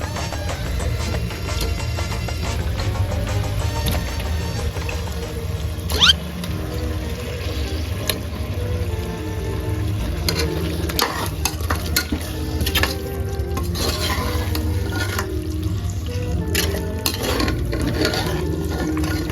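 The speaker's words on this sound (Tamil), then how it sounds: "சரி ஓகே சிக்கனை போட்டுக்கலாம்." Chicken pieces frying in a pot for chicken biryani, a steady sizzle and bubbling with continuous stirring and occasional sharp scrapes and clinks, close and fairly loud throughout.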